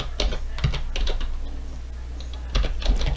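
Quick, light clicks of typing on a computer keyboard, a short cluster of keystrokes followed by a pause and then another few taps, close and clear with no talking.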